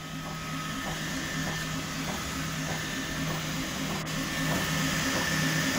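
A Bambu X1 Carbon 3D printer prints TPU filament at 200 °C, giving a steady motor hum with faint rhythmic stepper tones and ticks pulsing evenly throughout, close and continuous with no talking.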